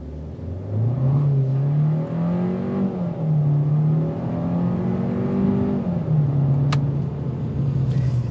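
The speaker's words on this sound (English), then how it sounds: "You do hear the engine note." A 2022 Hyundai Sonata Limited accelerates hard from inside the cabin, its engine note climbing steadily and dropping briefly at two gear shifts before rising again, loud and sustained.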